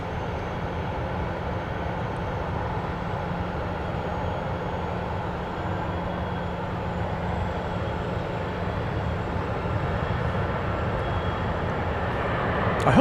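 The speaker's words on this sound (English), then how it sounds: "Then we'll shift around to get flight 52 coming in from Houston, a MAX 8, Houston Hobby Airport." A Boeing 737 MAX 8 arriving at Dallas Love Field, a steady, broad jet roar heard from a distance that holds for the whole stretch and swells slightly at the end.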